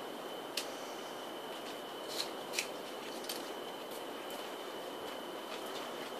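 Brown leaf tips snipped off a fiddle-leaf fig, a few sharp, quiet scissor clicks spaced out over a faint steady background hiss.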